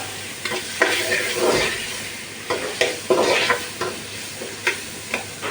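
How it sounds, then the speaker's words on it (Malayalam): Green chillies sauté in a pan with tomato, a loud close sizzle broken by repeated scraping stirs of a spoon against the pan, with no talk. "പച്ചമുളക് ഈ കേസി ഇതിലേക്ക് ചേർത്ത് അപ്പോൾ അത് നല്ലോണം വാട്ടിക്കൊടുക്കാം"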